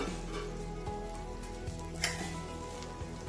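Hot oil sizzling in a pan ahead of cooking a Telugu spinach (palakura) curry, a steady low crackle with a few soft clicks, close and continuous with no talking.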